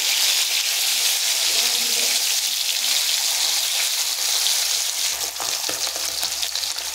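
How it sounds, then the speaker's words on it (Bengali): Hilsa fish frying in hot oil, a loud continuous sizzle and crackle that holds steady throughout, with brief clatter near the end as the fish is turned over in the pan. "এবার মাছটাকে আমি উল্টে দেব, উল্টে আর এক পাশ হালকা করে ভেজে নেব।"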